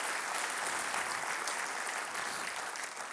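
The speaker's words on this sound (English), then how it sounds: "let's give a big round of applause to our North Long Beach projects" A community audience at a Long Beach civic event breaks into sustained applause, a dense, even roar of many hands clapping that holds steady throughout without talk.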